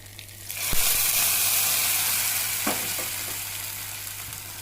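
Spices for moru curry crackling and spluttering in hot oil with curry leaves, a steady close sizzle with a few sharper pops, no voices.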